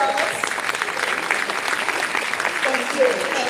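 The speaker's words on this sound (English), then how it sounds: "Big round of applause for these two" Audience clapping for two girls, a steady, fairly loud round of applause from a crowd, continuous for several seconds with faint voices mixed in.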